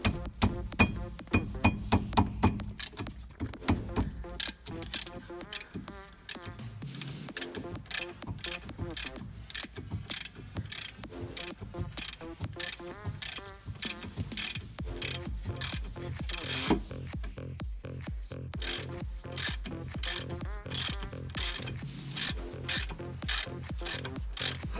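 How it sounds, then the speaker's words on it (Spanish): A ratchet loosens a 13 mm brake caliper bolt on a Peugeot 207 1.4 during a front brake pad change, giving rapid rattling clicks in close, repeated bursts, with some louder knocks and handling noise between strokes. "Ahora simplemente tenemos que sacar los dos tornillos de 13."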